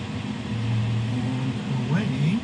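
A 2021 Jeep Grand Cherokee L is shifted into gear and pulls away, its engine humming low and steady as it gently speeds up, heard from inside the cabin under someone talking.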